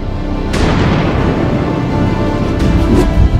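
Thunder from nearby lightning rolls over an outdoor site where a boulder retaining wall is being built: a loud, sustained rumble with a couple of sharper cracks, heard alone without talk.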